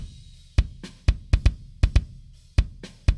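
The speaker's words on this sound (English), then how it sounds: "I just have this miscellaneous kick drum pattern that I programmed earlier" A programmed four-bar kick drum pattern plays alone, with about a dozen punchy low thumps in an uneven, syncopated rhythm.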